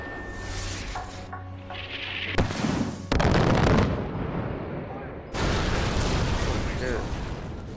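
Gunfire and heavy blasts from the video game Far Cry burst loudly in rapid bursts, with sharp cuts between loud stretches and a player talking over the action.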